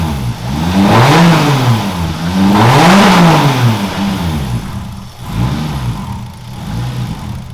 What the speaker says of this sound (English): Kind of have to rev it up and get it just a little bit warmer before it'll idle